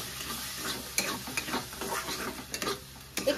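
A spoon stirs ground pointed gourd pulp filling as it fries in a pan, soft sizzling under intermittent scraping clicks of the utensil, close and quiet.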